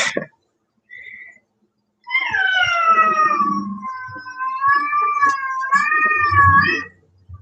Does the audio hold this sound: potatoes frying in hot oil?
no